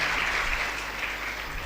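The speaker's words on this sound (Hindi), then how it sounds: "आप इतना जल्दी मत ताली बजाइए, पूरा सुन करके ताली बजाइए।" An indoor audience at a spiritual talk in Sirsa, Haryana claps steadily, a dense, even patter of many hands filling the short stretch without any voices.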